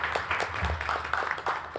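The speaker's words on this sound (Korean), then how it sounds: "박수로 부탁드립니다." Audience at a Korean panel discussion on the future of work applauds as a law school professor is introduced, a brief patter of scattered claps at moderate level with low murmur beneath.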